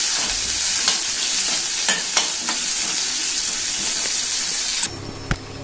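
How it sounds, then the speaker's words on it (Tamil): Shallots and green chillies sauté in a hot pan for mutton chukka, giving a loud, steady sizzle and hiss with occasional stirring scrapes, then a sudden drop to quieter frying near the end. "இப்போ வெங்காயம் வதங்கிடுச்சு."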